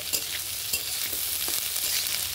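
Figs (dumur) stir-fry on high heat, giving a dense, even sizzle close by with light periodic stirring knocks and scrapes against the pan throughout; no talking.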